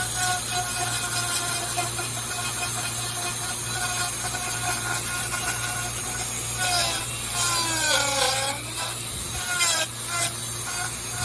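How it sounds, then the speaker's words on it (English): A rotary tool bit grinds down a wooden carving of a wood spirit, a steady high-pitched motor whine with rasping contact as the bit bites into the wood. Pitch shifts briefly near the end, with a low hum underneath throughout. "we're going to grind that center piece down"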